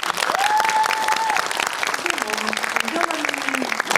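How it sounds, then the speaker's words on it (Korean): Cinema audience at a Lotte Cinema screening Q&A for the film Pamyo applauds steadily and loudly throughout, while a voice speaks over the clapping. "박수 한번"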